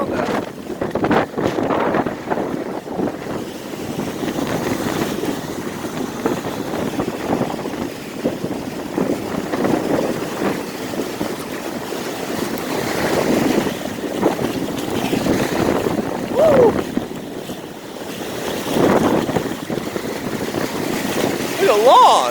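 Strong wind buffeting the microphone amid dangerous surf at Inlet Beach, Florida, with loud gusting roar and crashing waves rising and falling, people talking intermittently over it.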